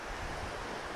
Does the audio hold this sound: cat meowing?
no